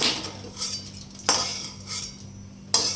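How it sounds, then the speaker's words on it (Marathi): Black peppercorns frying in oil in a pan over a medium flame, soft crackling and sizzle under repeated scraping and clinking of a spoon against the pan, with two sharper metallic strikes. "काळी मिरी फुटायला लागली, काढून घेतली"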